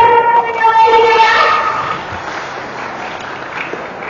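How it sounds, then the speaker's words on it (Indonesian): An audience applauds at an election-education class session, a dense patter of clapping running steadily throughout, with a tonal voice-like sound standing out over the first second and a half before the clapping continues alone, slightly softer. "Mari kita berikan tepuk tangan ya"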